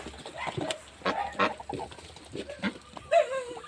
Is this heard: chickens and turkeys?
yes